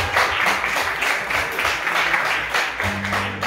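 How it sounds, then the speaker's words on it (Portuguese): A crowd applauds steadily during a church celebration service, a dense wash of clapping filling the space, with some low music or hum underneath toward the end. "Você pode aplaudir ao Senhor"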